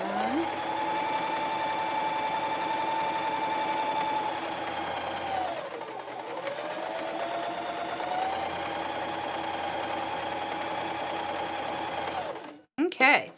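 A Viking E10 sewing machine runs steadily for about twelve seconds sewing stretch stitches, a continuous close motor whir with a brief dip midway, then it stops and a short clatter follows.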